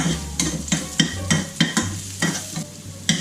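Squid is stir-fried in a hot pan, with a spatula scraping in a quick, regular rhythm of about three strokes a second over a steady sizzle, and no voices.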